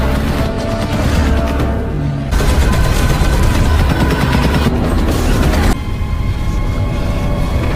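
Fighter plane gunfire in a film, a dense, loud roar of rapid automatic fire sustained for several seconds in long unbroken bursts with abrupt shifts in intensity, heavy low rumble throughout and no speech.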